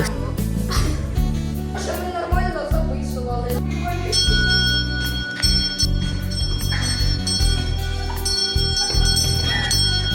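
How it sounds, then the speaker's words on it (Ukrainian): A school bell rings out for the first day of school, loud and sustained, its bright metallic tones layered over music and other sound with no pause. "Тому перший дзвоник пролунає для вас із рук влади, а потім Артема"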